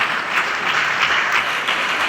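A lecture audience keeps clapping after a distinguished public lecture, a short, loud, continuous burst of dense applause with no voices.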